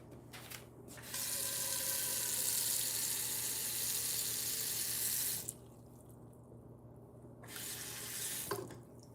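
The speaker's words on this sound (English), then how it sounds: "So I'm gonna put some water in the bottom of it" A kitchen faucet runs water into a pot beneath a veggie steamer, a steady close hiss of flowing water that stops, pauses for a couple of seconds, then runs again briefly, over a low background hum.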